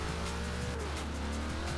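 Race cars roar off the start line in Forza Horizon 4, a Ford Crown Victoria police car among Mustangs and a Dodge Viper, with loud, dense engine revving and rising pitch as they accelerate together.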